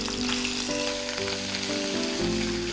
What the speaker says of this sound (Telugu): జీలకర్ర వేగింది, కొద్దిగా జింజర్ గార్లిక్ పేస్ట్ వేస్తున్నాను.